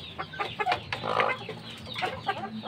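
A fighting-breed hen with her newly hatched chicks, heard as soft repeated clucks mixed with thin high chick peeps, close by and fairly quiet, with no one speaking.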